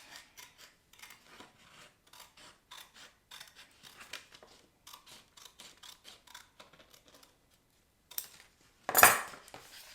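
Scissors snip through paper in a string of quick, close cuts. A louder rustle and scrape comes near the end.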